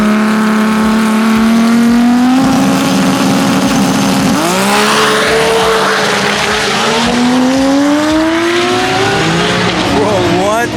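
Drag race cars of around 2000 horsepower roar past at a TX2K event, a loud sustained engine wail with shifting pitch as they accelerate, close and overwhelming, with crowd voices beneath.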